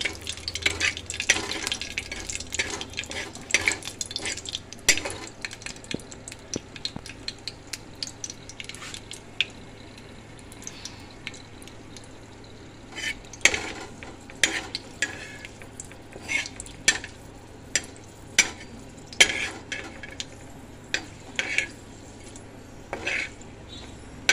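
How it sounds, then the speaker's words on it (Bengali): Mustard seeds and a dried red chili frying in a little oil in a wok, a soft sizzle broken by repeated scraping and stirring clatters from a utensil against the pan. "এটা একটু ভাজা ভাজা হয়ে যাক।"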